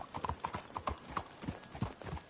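Horse hooves clip-clop at a steady walking pace in a video game, with the hollow knocks of several hooves overlapping close by against a faint ambient background.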